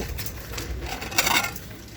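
Ceramic dessert and dinner plates knock and clink together as they are handled in a discount store, a few light rattling contacts with one brighter clatter near the middle.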